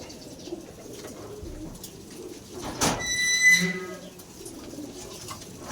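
Racing pigeons in a loft give a soft coo near the middle of the stretch, a short rolling burst rising above quiet rustling and faint background noise.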